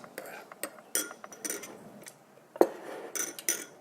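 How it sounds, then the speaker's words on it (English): A spoon stirring honey into ginger green tea clinks against a cup in scattered light taps, with one sharper knock partway through; soft and close-up. "Just give it a stir"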